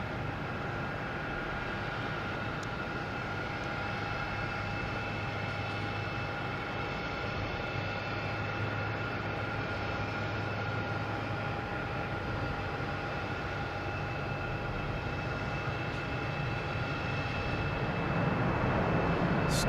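A Lufthansa Airbus A340-300 arriving from Frankfurt at Boston Logan passes as a steady, broad engine roar that holds at an even level throughout, with a faint high whine running over the top.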